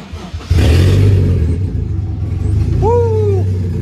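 A Toyota 1JZ-VVTi inline-six in a freshly built engine bay fires up with a sudden loud start and settles into a steady, low, rumbling idle, close by and alone.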